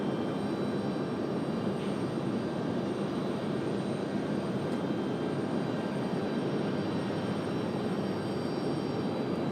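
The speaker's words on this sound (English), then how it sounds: "Reno Air up next for departure back to DFW." A Reno Air jet airliner at Raleigh-Durham airport, a broad steady engine roar that holds constant for the whole stretch, loud and sustained with no talk.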